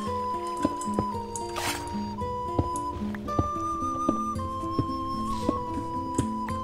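Water flooding the caves of a Minecraft world, with soft squishy drips and liquid trickles repeating over a steady tonal music backdrop.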